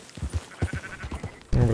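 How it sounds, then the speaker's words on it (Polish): Sheep in the video game Red Dead Redemption 2 give a series of short, close bleats, ending in one louder, sustained bleat. "Musimy owce zagonić?"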